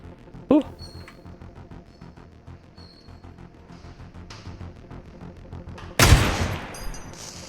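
A single sharp gunshot near the start and a louder, closer blast toward the end, fired in the video game Receiver 2, with quiet ambient game noise between.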